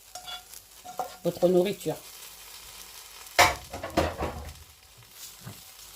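Basmati rice in a saucepan is stirred with a utensil, giving several short scraping, rustling bursts with pauses between them, close and moderately loud, with a brief spoken word.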